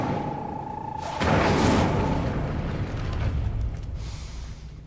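A fire spell, Incendio, is cast in the video game Hogwarts Legacy: a sudden fiery whoosh bursts in partway through, then fades into a sustained rumbling roar that carries on to the end.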